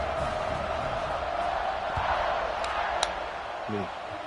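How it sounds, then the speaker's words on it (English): Football stadium crowd at a college game, a steady loud buzz of many voices filling the space without letup, with a few faint whistles or shouts poking through. "this crowd is buzzing after that last score"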